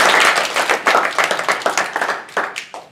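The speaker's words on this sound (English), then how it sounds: "Just one more round of applause." Close, loud applause from a small audience at the end of a bot-building hackathon event, a lively burst of rhythmic hand claps that gradually thins out.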